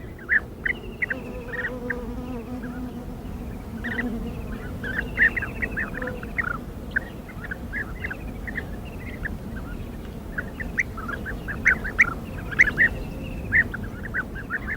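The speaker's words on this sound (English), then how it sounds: "Every spring, bee-eaters return from Africa to breed in the cliffs along the Jordan." Bee-eaters at nesting cliffs along the Jordan River, repeated short trilling calls from several birds scattered throughout, over a steady background murmur of the riverside.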